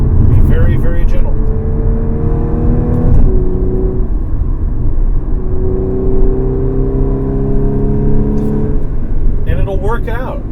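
A 2015 Audi S4 with all-wheel drive accelerating through the gears, its engine rising in pitch, briefly dropping at shifts, then climbing again, loud and close from inside the car.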